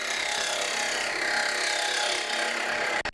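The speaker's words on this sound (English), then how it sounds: "Start the lathe up again and continue with the cuts." Wood lathe spinning timber as a tool takes cuts, giving a steady, loud, dense whirring and scraping hiss that holds evenly throughout before briefly breaking off at the very end.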